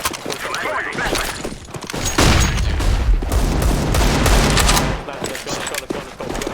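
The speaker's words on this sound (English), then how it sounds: "Throwing a flashbang!" A flashbang grenade goes off in a Counter-Strike: Global Offensive round, a loud booming burst with a long ringing tail, amid dense gunfire and game noise throughout.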